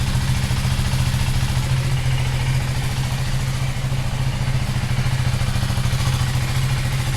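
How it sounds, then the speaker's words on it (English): KTM Duke 390 Gen 3 motorcycle engine idling steadily after a cold start, a close, even, low thrumming putter with light mechanical clatter, unrevved and continuous throughout. "It has been cold started, so I'm not revving it"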